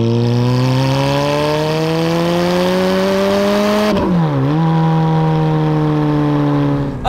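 A 2005 Ferrari F430 Spider's 4.3-litre V8 revs steadily upward in a loud, close drone, briefly dips as the revs drop, then holds a strong, steady note.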